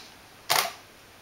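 A camera shutter set to 500 fires a single crisp click, close and clear against faint background hiss.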